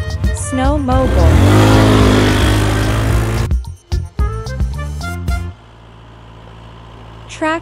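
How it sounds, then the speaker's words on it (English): A loud, high-revving snowmobile engine whines and rises in pitch, then cuts off into a few short bursts before quieting. "snowmobile."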